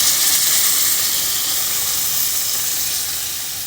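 Water poured onto frying spices in a home-cooked egg, potato and pointed gourd curry sets off a loud, steady sizzle and steamy hiss that tapers slightly over a few seconds, with no voices.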